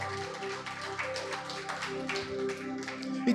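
A church congregation claps along in a quick, even rhythm through a Portuguese-language sermon, with the clapping mixed under music and a sustained tone.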